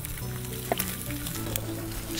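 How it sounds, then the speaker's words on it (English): Salmon sears in a frying pan, giving a steady close sizzle and crackle throughout with a few brief clinks and stirs, no talk over it. "the salmon is searing on the pan"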